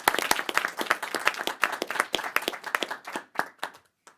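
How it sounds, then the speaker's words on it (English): Board meeting attendees give a round of applause for Connie, a moderate burst of distinct hand claps that thins out and trails off to a few final claps. "could I ask for a round of applause for Connie"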